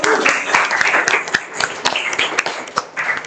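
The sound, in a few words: applause for a student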